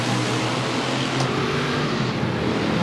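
A Phase 3 touring car engine drones loudly and continuously at a race meeting, with a broad roar of mechanical noise that holds steady and sounds close by.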